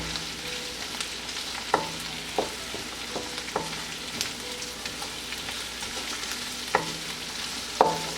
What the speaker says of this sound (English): Saute it for another 30 seconds.